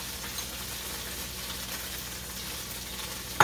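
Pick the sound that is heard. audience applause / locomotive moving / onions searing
onions searing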